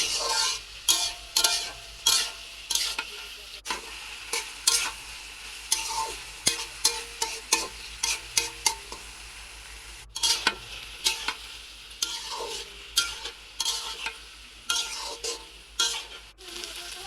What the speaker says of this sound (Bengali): সাথে পেঁয়াজ কাঁচামরিচ দিয়ে হচ্ছে ভেন্ডিগুলো ভাজি করে নিব